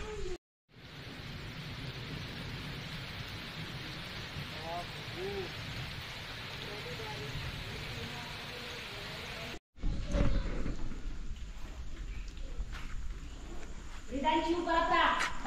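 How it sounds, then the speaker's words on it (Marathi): Steady heavy rain hisses continuously at a temple in Sindhudurg, India, briefly broken by silent gaps, with a voice talking over it in the later part. "पाऊस आता जोरात आला होता"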